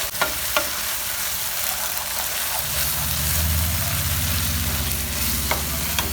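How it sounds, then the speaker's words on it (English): Steady sizzling of masala frying in a hot pan for Goan prawn balchão, a continuous crackle with a low rumble joining partway through. "As the masala is frying"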